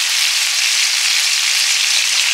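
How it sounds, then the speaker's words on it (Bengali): Green chillies sizzle in hot oil for Bengali ghugni, a loud, steady, close-up frying hiss that runs unbroken from start to finish. "আর কাঁচা লঙ্কাটা আজকে একটু তেলে দিলাম"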